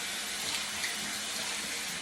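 Warm tap water runs steadily into a sink while a washcloth is rinsed during a facial routine, a close, even splashing hiss that lasts the whole moment with no talking.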